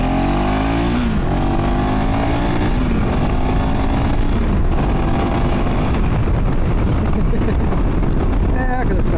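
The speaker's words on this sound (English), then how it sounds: "a little bit more exhaust noise" KTM 390 Adventure R single-cylinder motorcycle fitted with a decat exhaust pipe, riding hard with a loud, rising engine note through the gears, close to the microphone with heavy wind buffeting throughout.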